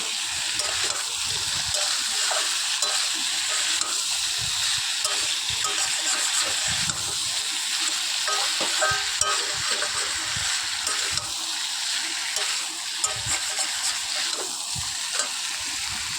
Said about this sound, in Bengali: তো দেখো, ভালো করে আমি ভেজে নেব।